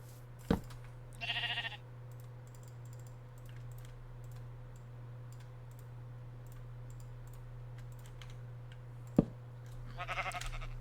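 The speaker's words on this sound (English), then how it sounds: "We found a pink sheep." Minecraft sheep give two short synthetic bleats, one early and one near the end, over a steady electrical hum, sparse keyboard clicks and two sharp taps.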